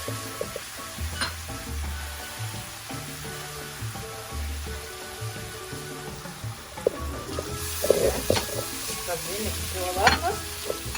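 Shrimp sizzling in a frying pan with ketchup, tomato paste, salt and water as a spoon stirs through it, a steady close fry hiss with scraping strokes that grow busier toward the end.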